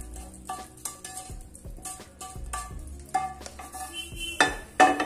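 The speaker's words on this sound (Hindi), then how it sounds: "तो फ्रेंड अब इस तड़के को हम इसके अंदर ट्रांसफर कर लेंगे।" Hot tadka tempering is poured into a black chickpea dish, giving clattering pan and spoon knocks with stirring and bursts of sizzling, close and fairly loud, with no talk.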